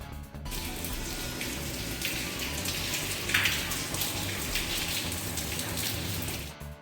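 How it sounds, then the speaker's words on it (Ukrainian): Melt water pours through leaky roofs into buildings in Sievierodonetsk, a continuous splashing, dripping wash that runs steadily throughout at a fairly close distance. "Там, де диряві дахи, а вони практично всюди, людям на голови тепер лється тала вода."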